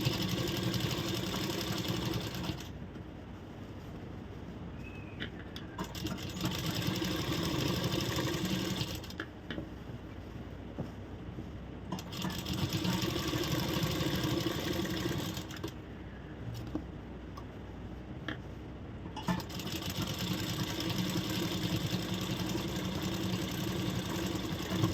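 A sewing machine stitching a blouse runs in long, steady whirring bursts, with short pauses between runs, close and fairly loud with a mechanical hum and no talk.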